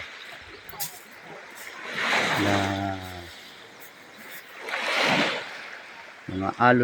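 Sea waves rolling in and washing onto a sandy beach at a resort in San Juan, Batangas, with two swelling surges of surf and a steady noisy wash between them.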